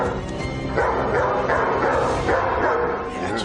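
A dog, the police dog Rex from a French TV crime drama, barks and yips repeatedly at close range amid background noise and talk.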